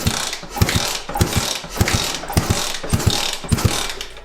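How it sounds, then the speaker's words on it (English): A motorcycle engine is cranked over, rhythmic mechanical chugging in repeated pulses about twice a second, close and fairly loud, without firing up. "it feels smooth spinning the engine over"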